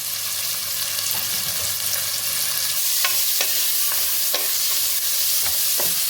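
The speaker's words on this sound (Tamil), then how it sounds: "வெங்காயம் வதங்கக்குள்ள கொஞ்சம் நம்ம உப்பு போட்டுக்கலாம்." Onions with curry leaves sautéing in a pan for a country chicken curry, a steady close sizzle and fry under scraping stirs that come at a regular pace.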